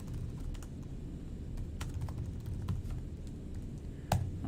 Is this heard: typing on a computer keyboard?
yes